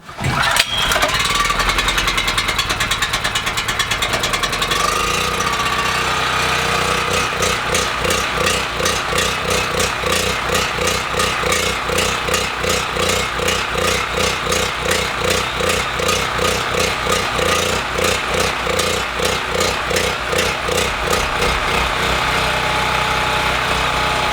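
A gasoline generator engine is pulled to life and settles into a loud, steady running drone with a fast, pulsing rhythm that continues close by for about twenty seconds.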